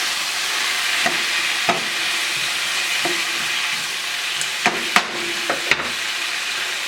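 Beans and greens with onions, salt and pepper cook in a pan with a steady, even sizzle, broken by a few sharp clicks and scrapes of a utensil, with no voices.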